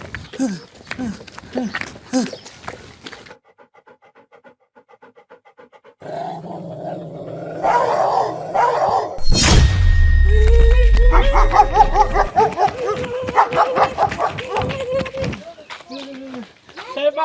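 A dog barks and yelps in bursts alongside loud, excited human voices, with a sudden heavy crash and rumble partway through.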